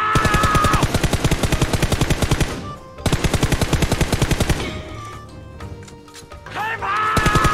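Loud, close bursts of automatic machine-gun spray fire in a shooter video game: a long rapid volley, a short pause, a second sustained burst, scattered quieter game sounds, then another burst starting at the end.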